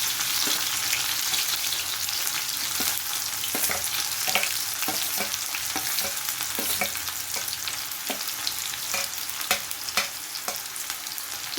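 Chopped onions fry in oil in a pan for an egg fry, giving a steady loud sizzle with intermittent scraping taps of stirring throughout, no voices.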